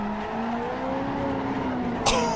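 A Ferrari 458 Italia V8 howls steadily around the Nordschleife in Assetto Corsa, its pitch climbing slowly in fourth gear, before a sharp thump or clack near the end; no talking is heard.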